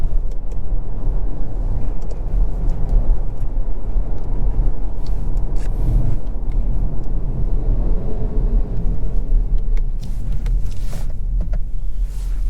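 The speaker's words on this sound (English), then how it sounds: "But I do want to try a little acceleration right here." A 2022 Acura MDX A Spec AWD SUV accelerating in sport mode, heard as a loud, steady low rumble of engine and road noise that holds evenly throughout.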